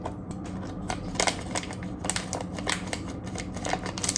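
Scissors snipping in a kitchen while a vegan recipe with mango is prepared, with quiet irregular crisp cuts repeating through the stretch, close but faint.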